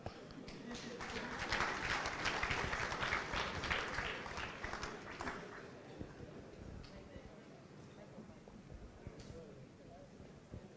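Audience applause at a Thursday Club joint fellowship meeting, a dense round of clapping that swells over the first few seconds, then thins and fades out, fairly distant and soft.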